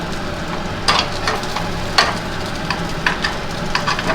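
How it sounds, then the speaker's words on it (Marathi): Rice appe sizzle softly in oil in an appe pan, a steady low crackle broken by a few sharp clicks and taps as the dumplings are flipped over one by one. "मी वरती या साईडला थोडंसं तेल टाकून घेत आहे आणि ते पलटून घेत आहे दुसऱ्या साईडने भाजण्यासाठी"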